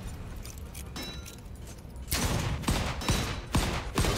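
Revolver gunshots in the video game Volcanoids: after a quieter stretch, a burst of several sharp, loud shots comes in quick irregular succession, alone without talk.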